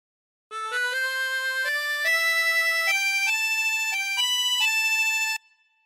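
A harmonica plays a melodic phrase as a sustained run of single reedy notes, stepping from one pitch to the next. The tone is clear and steady, close and alone, and lasts about five seconds.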